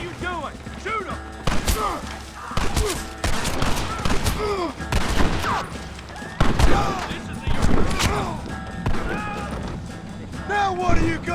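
Repeated gunshots crack through a Red Dead Redemption shootout, firing in irregular bursts with heavy thuds mixed in, while voices shout over the battle throughout.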